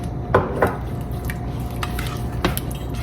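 Spoon clatters and scrapes against a bowl as an egg is mixed into thick flourless brownie batter, with a few sharp clinks standing out over a soft, wet squishing stir, close and without talk.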